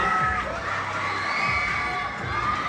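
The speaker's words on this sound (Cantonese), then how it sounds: "大家都俾多啲打氣聲佢哋啊" A large crowd cheers and shouts continuously, with high children's voices and whoops rising above a steady roar of excited noise.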